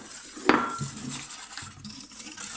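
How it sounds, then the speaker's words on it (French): Cornstarch and sugar being mixed quickly in a bowl for a yogurt flan, with a sharp clink of a utensil against the dish followed by steady scraping and stirring, close and moderately loud. "On va venir mélanger rapidement"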